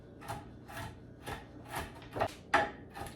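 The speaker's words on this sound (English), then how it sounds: "All right, so I'm just chopping these to get rid of the bigger pieces." A hand chopper chops pecans for pumpkin oat maple muffins: about eight evenly spaced, soft clacking strikes, fairly quiet and close, with no talking.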